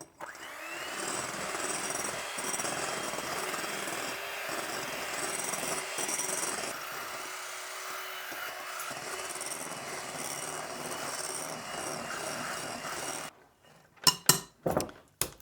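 A mixer beats sugar into pavlova meringue in an old log cabin kitchen, making a steady, loud whirring drone for about thirteen seconds before it stops and a few sharp clatters follow.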